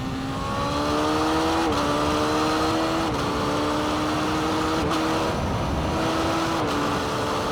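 A Kawasaki Z900 with a Stage 2 ECU pulls hard in third gear on a German Autobahn: a loud, continuous engine whine climbs steadily in pitch, dipping briefly several times before rising again.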